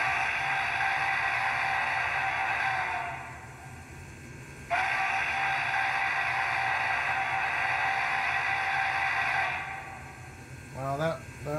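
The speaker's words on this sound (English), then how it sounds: "Wow, that whistle is amazing. Very, very accurate to the prototype." ESU LokSound steam whistle on an Athearn model of the Union Pacific 844 4-8-4 FEF locomotive: two long, loud, sustained blasts, the first about three seconds and the second about five, separated by a brief pause.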